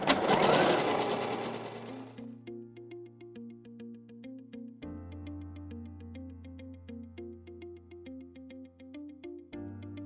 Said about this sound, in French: là j'ai épinglé tout le haut de la jupe et on va venir le piquer à la machine